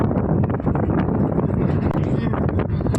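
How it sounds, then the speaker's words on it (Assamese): Strong, cold wind on a bridge buffets the microphone in a steady low roar throughout, with faint vehicle rumble underneath and a voice speaking briefly. "একদম বহুত বতাহ মাৰি আছে দেই ঠাণ্ডা ব্ৰিজৰ ওপৰত"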